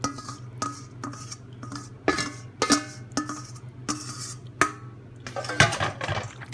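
Chicken being mixed with batter in a bowl, heard as a run of uneven clinks and scrapes of a utensil against the bowl with soft wet squishing between them. It sounds close, with no talking.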